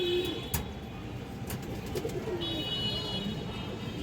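A pair of Gorra pigeons coo softly and repeatedly, low and somewhat distant, over steady background hiss and faint chirps, with no one speaking.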